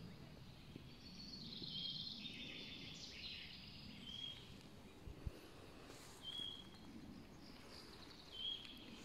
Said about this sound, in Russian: Мася, сколько птиц-то?